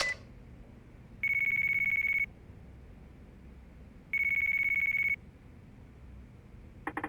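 A phone rings in Yakuza 4 Remastered, two electronic ringing bursts of about a second each separated by a pause, over a low game ambience.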